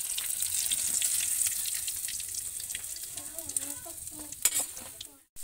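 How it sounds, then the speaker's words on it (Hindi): Fish fry in a pan with a bubbling sizzle mixed with clinks and scraping as the pieces are handled, a short voice-like sound in the background, ending in a sudden cut. "और इसी तरह सभी फिशेस फ्राई कर ले रही हूँ मैं।"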